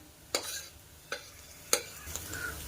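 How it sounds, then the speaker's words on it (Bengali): A utensil mashing boiled potato and beetroot in a kadai gives four sharp scraping knocks spaced about half a second apart, over a faint background sizzle. "এইভাবে আলু আর বিট খুব ভালোভাবে ম্যাশ করে নেব।"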